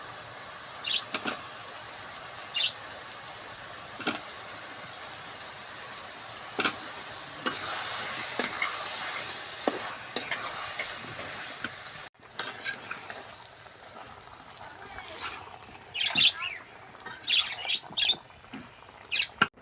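Bottle gourd and potatoes cooking with shrimp in a pan, a continuous sizzling hiss broken by stirring clicks, then a quieter stretch where birds chirp and squawk nearby.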